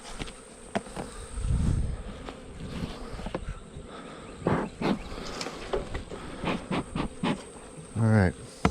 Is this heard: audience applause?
no